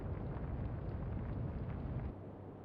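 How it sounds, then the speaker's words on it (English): Internal explosions rumble aboard a warship in the naval combat game Atlantic Fleet, a loud dense low roar holding steady for about two seconds before easing off, with no talk. "Internal explosions, that's always worrying."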